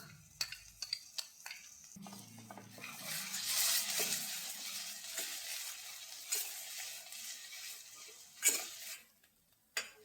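A ground masala with tomato, for a dry prawn dish, sizzles and fries in a pan while a spoon stirs it, with scraping clinks over a steady low hiss, with no talking.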